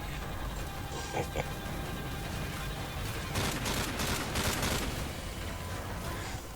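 Modern Warfare 3 multiplayer gunfire, dense rapid bursts of automatic weapon fire over a continuous noisy battle bed, growing heavier in the second half.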